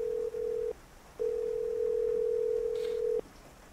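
A phone call in a Roblox horror game sounds a steady electronic ringing tone in long, even beeps separated by short gaps, clear and alone.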